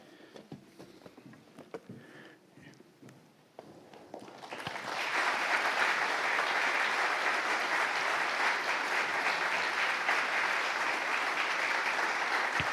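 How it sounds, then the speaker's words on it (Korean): A church congregation at a retirement and ordination thanksgiving service breaks into sustained applause, starting from scattered rustling and footsteps and swelling into steady, dense clapping from a large indoor crowd. "다시 한번 큰 박수 부탁드리겠습니다"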